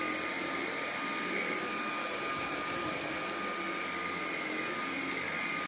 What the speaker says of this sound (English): I'm gonna be checking out the Dreametech P10 Cordless Stick Vac.